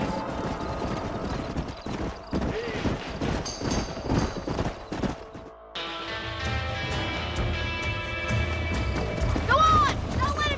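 Horses gallop in the Western video game Red Dead Redemption: rapid, rhythmic hoofbeats up close for the first half, with brief voices, then orchestral game music swells over fainter movement.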